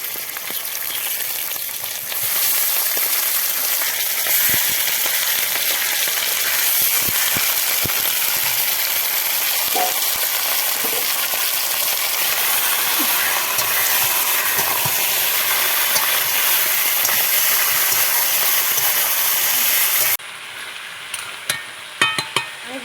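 Chicken pieces go into a pan of onions browned in oil for a low-oil chicken curry. A loud, even sizzle runs for about twenty seconds with scattered stirring clicks, then cuts off abruptly to near quiet.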